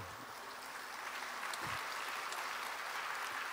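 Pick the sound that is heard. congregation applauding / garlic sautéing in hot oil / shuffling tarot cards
congregation applauding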